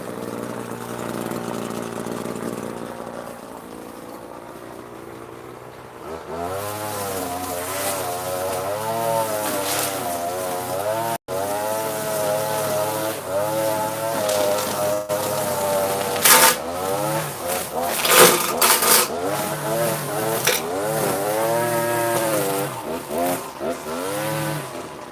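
An ECHO PAS hedge trimmer engine running while trimming hedges beside a house, starting quieter, then revving and wavering in pitch with loud, close surges as it cuts.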